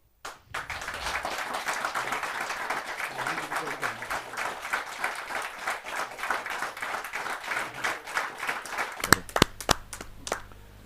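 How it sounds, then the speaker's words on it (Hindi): A poetry-gathering audience claps warmly to welcome the poet Preeti Tripathi, a dense, sustained round of applause from a crowd that runs for several seconds before a few last sharp claps trail off. "जरा जोरदार ताली के साथ हम उनका स्वागत।"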